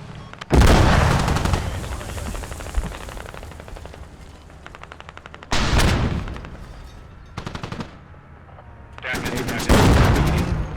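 Heavy tank cannon hits and machine-gun fire in the military game Squad during an Abrams tank fight, loud booming impacts separated by stretches of rattling gunfire and rumble.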